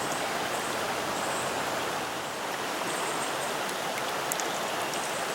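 A fall trout stream, where a small tributary joins, rushes steadily close by: an unbroken, even wash of flowing water with no voices and no pauses.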